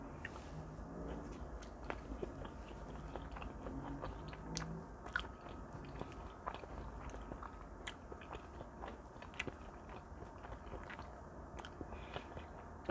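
Close, soft chewing and biting of homemade blueberry pancakes with maple syrup, quiet wet mouth sounds with occasional small crunchy clicks spread over a steady low background, no talking.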